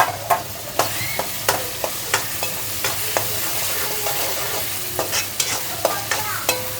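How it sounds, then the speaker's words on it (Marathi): Garlic sizzles in a hot pan while a utensil stirs it, steady frying hiss under regular clicking scrapes and taps against the pan, close and fairly loud. "आता याच्यात लसूण पण टाकून देते, लसूण पण छान परतून जाणार."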